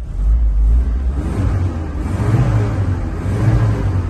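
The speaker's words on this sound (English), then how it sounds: "Engine sounds sweet enough." A 1989 Ford Transit 12-seat bus engine rumbles and revs, its low drone rising and falling in a couple of swells over a few seconds, heard up close with no talk.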